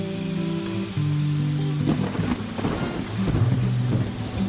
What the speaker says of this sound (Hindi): बादल गरज रहे हैं, बारिश बरस